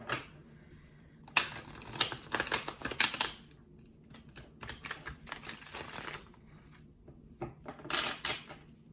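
Tarot cards being shuffled close up in quick bursts of riffling and flicking, loud at first and then returning in shorter, softer flurries, with no voice over them.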